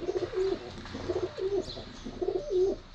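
Pigeons coo repeatedly in a rhythmic series of soft, low calls, close by and steady, with faint background ambience and no talking.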